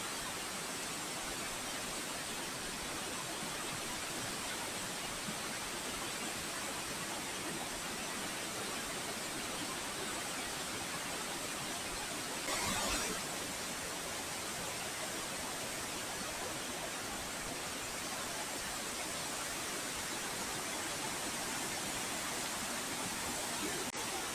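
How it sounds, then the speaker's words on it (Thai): Haew Narok waterfall in Khao Yai pours with heavy flow and rising spray, an unbroken broad roaring hiss that stays loud and constant from start to finish. "วันนี้ปริมาณน้ำเยอะแล้วก็น้ำตกแรงมาก มันจะเป็นละอองฟุ้งขึ้นมาเลย"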